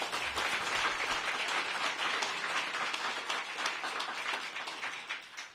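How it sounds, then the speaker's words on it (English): Audience applause follows a call to honor two leaders at an office opening and bill signing held by the mayor of Washington, DC. The clapping is sustained and dense, then fades slightly toward the end. "Give these two a round of applause for their leadership."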